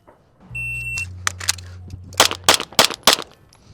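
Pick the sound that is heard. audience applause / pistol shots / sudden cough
pistol shots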